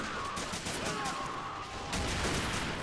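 Dense rattling gunfire from a Men of War battle with Soviet infantry assaulting a Japanese pagoda temple, continuous overlapping shots at moderate distance forming a steady fusillade, with a faint voice underneath.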